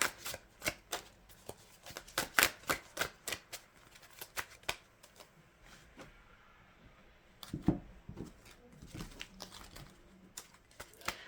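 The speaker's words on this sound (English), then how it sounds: "Two more shuffles." Tarot cards are shuffled close up: quick riffles and soft slaps of a deck, repeated in bursts with brief pauses.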